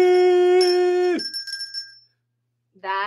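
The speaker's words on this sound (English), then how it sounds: "Ring that bell." A bell rings twice with a bright, clear metallic tone, the first ring sustaining and then fading into a short rattle before silence, the second ring starting crisply near the end.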